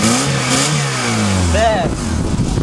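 An Eagle Summit car engine with a blown head gasket and low compression revs up and falls back, rough and loud close by, with a voice speaking over it.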